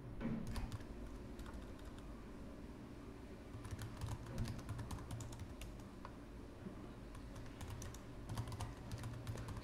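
Computer keyboard typing while configuring a database, a steady stream of light, close key clicks with irregular bursts and pauses, no talking.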